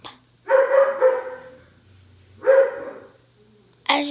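Dogs barking indoors in short loud bursts, a cluster of barks followed by a pause and another bark, then a final sharp bark near the end, with no talk over them.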